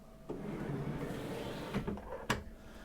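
A cutlery drawer in the galley of a Jeanneau Sun Odyssey 490 yacht slides open and shut, a soft rolling rumble ending in a couple of sharp knocks, close by and alone.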